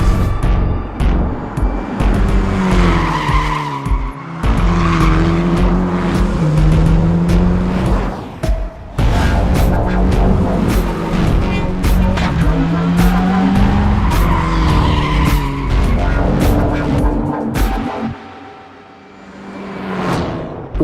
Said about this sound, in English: recreate and capture the sounds that really bring these vehicles to life